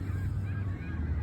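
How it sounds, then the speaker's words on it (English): Geese honk repeatedly nearby, overlapping calls in a rough chorus with a low steady background, heard while out bird watching. "Look at these birds."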